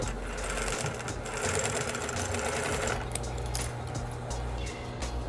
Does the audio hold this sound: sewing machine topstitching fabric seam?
yes